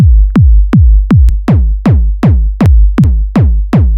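A series of booming synthesized kick drum hits with soft shaping and no high-pass filter, about eleven in steady rhythm, each with a deep thumping body and sharp click, loud and alone.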